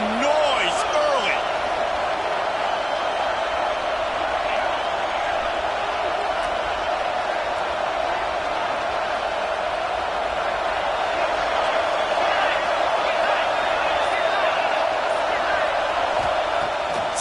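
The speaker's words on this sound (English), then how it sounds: "This crowd bringing the energy and noise early." A football stadium crowd roars loudly and without a break, a dense, steady wash of cheering that holds at one level throughout, with occasional whoops rising above it.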